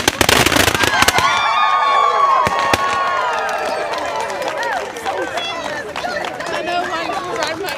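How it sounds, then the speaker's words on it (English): Party poppers twisted and fired at a 2021 college commencement ceremony crack in a rapid burst of pops near and far, followed by a crowd's chatter and cheering with scattered streamers rustling. "Twist the bottom and top of your popper and shoot up to the left."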